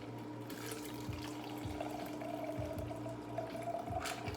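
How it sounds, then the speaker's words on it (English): A cocktail strained into a glass, a thin trickling pour of liquid with soft splashy gurgles, quiet and continuous over a few seconds. "And then into that glass, we're gonna strain our cocktail."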